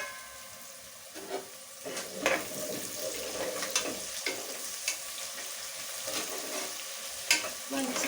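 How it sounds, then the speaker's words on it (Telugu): Onions frying in a pan for fish curry, with a steady sizzle and intermittent scraping strokes of a spoon as they are stirred, moderately close and fairly quiet, no talking. "ఉల్లిపాయలు వేగాయో వేసి చూద్దామండి"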